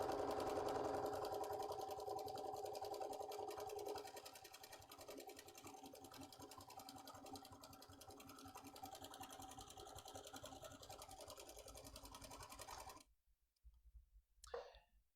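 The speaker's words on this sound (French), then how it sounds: "la machine a fini ma boutonnière, elle s'est arrêtée" A Bernina 3 series sewing machine stitches a buttonhole with a steady, close mechanical whir and rapid needle clatter for about thirteen seconds, then stops, leaving near silence.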